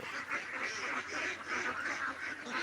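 Ducks on a duck farm quack in a faint, dense chorus of overlapping calls that pulses steadily through the short stretch.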